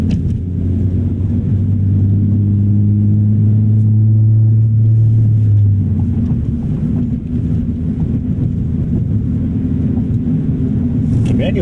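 Honda Civic Si coupe with a short-geared manual transmission, engine droning and rising in pitch as it accelerates, then dropping at a shift into a lower rumble, heard from inside the cabin with wind noise while people talk.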